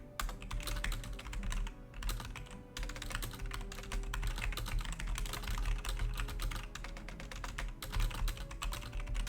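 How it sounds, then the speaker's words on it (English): Rapid, steady typing on a computer keyboard, heard close up. Dense clicking keystrokes run on with only brief pauses and no talking. "sound is me typing"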